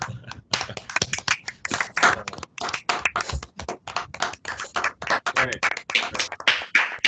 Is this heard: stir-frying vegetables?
no